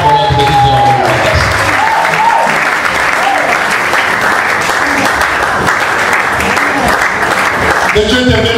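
A church congregation breaks into loud, sustained applause and cheering that fills the room for the whole stretch, dense and continuous, with voices mixed into the clapping.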